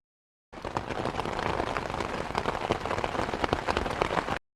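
Rain falls in a cartoon about a snail and ants on a slippery road, starting suddenly as a dense, steady patter and hiss, then cutting off abruptly, with no voices.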